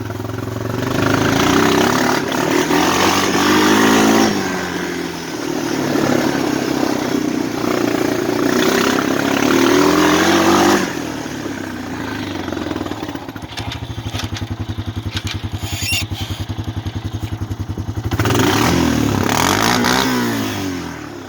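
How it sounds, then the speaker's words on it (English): A Honda four-wheeler's engine revs hard in third gear and repeatedly bounces off its limiter in sustained bursts, loud and close, with a stuttering buzz between the higher-pitched revving peaks. "it's not the best thing to be revving it off the top limiter like that"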